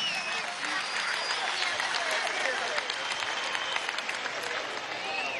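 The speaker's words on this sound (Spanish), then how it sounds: "Vamos a darle un aplauso a los niños y a las niñas." A large crowd at a commemoration event with the communes applauds the children, a continuous, dense wash of clapping that holds steady for several seconds, with crowd voices mixed in.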